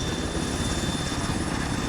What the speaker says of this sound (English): Hearing a helicopter come in. That is that Blackhawk, or Ghost Hawk